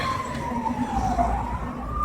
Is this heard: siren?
yes